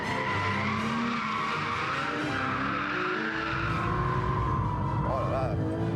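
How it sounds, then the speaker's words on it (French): A Porsche 911 GT3 with ceramic brakes brakes hard on a track and slides, its tires squealing loudly and continuously over engine roar, with a voice talking over it. "on arrive à faire de grandes glisses sur 100 mètres"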